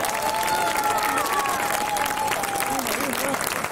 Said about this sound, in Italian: l'applauso deve essere grande, lungo e potente